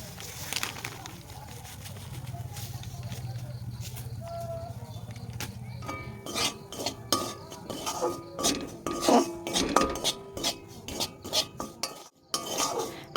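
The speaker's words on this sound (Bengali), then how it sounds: "তো চলো সুজিটা ঢেলে দিই।" Semolina is poured into a pan with a little oil and stirred while roasting, heard as a low hum and then a run of near, rhythmic spoon scrapes and metallic clinks against the pan.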